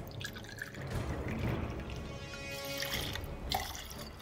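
Vodka poured into a cocktail shaker, a quiet close trickle and splash of liquid running for a few seconds.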